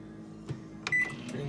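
A kitchen microwave oven runs with a low steady hum, broken by a few brief clicks and knocks and a short high beep near the middle.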